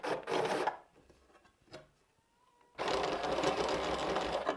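A step drill bit grinds as it enlarges a hole to half an inch. Two loud, close bursts of rasping cutting are separated by a quiet pause with faint handling noises.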